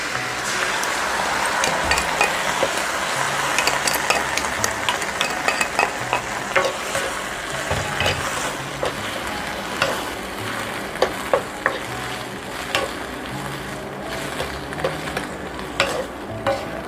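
Shishito peppers stir-fried in a pan for an anchovy side dish with sliced garlic, a steady loud sizzle broken by frequent sharp scraping and clacking of a utensil against the pan, no talking.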